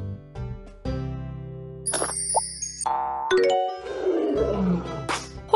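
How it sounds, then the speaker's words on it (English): A cartoon-style lion roar in a children's animal learning game, a rough growling burst over chiming bells and cheerful jingles. "Lion."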